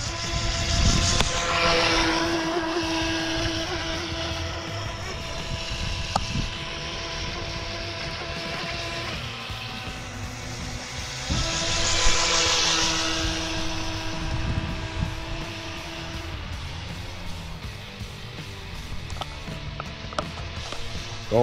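A Pro Boat remote-control speedboat races across a lake, its small motor giving a continuous buzzing whine that rises and falls with throttle, heard from a moderate distance outdoors with no talking.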